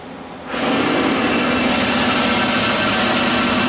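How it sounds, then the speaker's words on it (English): A lathe spindle spins up at 1000 RPM, jumping from near quiet to a steady, loud, even machine whir that holds without variation. "Let's start out at 1000 RPM, hit enter, and we'll turn the spindle on."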